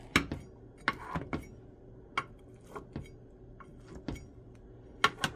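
A knife cuts and serves a baked zucchini mock apple pie, making sharp, scattered clinks and taps of metal on the dish with quiet pauses between them, close and without talk.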